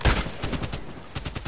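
A rapid burst of gunshots in the shooter game Contract Wars, fired from a TKPD Storm carbine: several sharp cracks close together, then a short pause and a few more shots.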